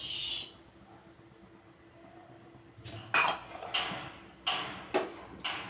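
Food tipped from one pan into another bowl during Telugu home cooking, heard as a quiet stretch followed by a run of sharp metallic clinks and scrapes of a utensil against the dish, close and without talk.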